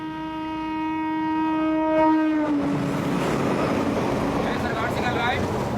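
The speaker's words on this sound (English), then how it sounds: "before the train arrives" Train arriving on a single-line railway in India, a loud sustained horn blast that fades into the rising rumble and rattle of approaching wagons, with people talking over it.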